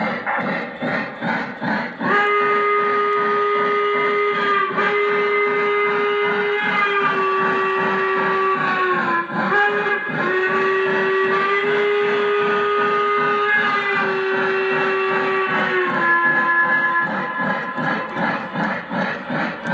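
A long, loud steam locomotive whistle sounds continuously, its chord wavering and dipping briefly midway, with rhythmic chuffing underneath.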